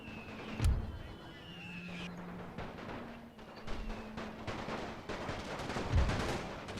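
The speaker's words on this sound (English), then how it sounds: "now when our artillery is returning fire, we blew the guns to shit" An artillery battery firing in the video game The Great War 6.0, with a couple of deep, distant booms spaced several seconds apart over a steady background rumble of battle.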